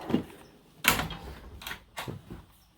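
A US General tool cart drawer slides open with a short metallic rumble, followed by a couple of soft clunks and rattles of tools shifting nearby.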